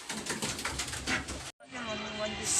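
Racing pigeons coo softly in a loft, low rolling calls repeating under rustling and faint talk, a brief silent gap midway, then quieter cooing with a thin high tone near the end.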